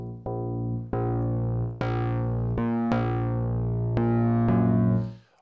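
A filtered Thor synthesizer patch run through the shaper, played as a series of sustained, harmonically rich notes with sharp attacks, each bright and buzzy, loud and close with no voices.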